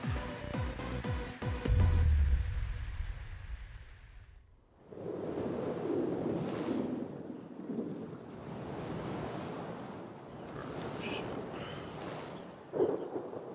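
Water waves in Streets of Rage 4, a broad washing surf that swells and recedes in several long surges after an opening burst of other game sound, moderately loud throughout.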